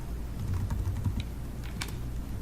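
Someone types a name on a computer keyboard: a close, steady patter of key presses with a few sharper taps, continuing over a low background hum.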